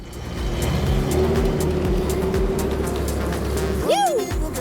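Engine of an overland expedition truck carrying a living box, working steadily at low revs as it climbs over a trail obstacle, with a rising whine and a loud clunk near the end.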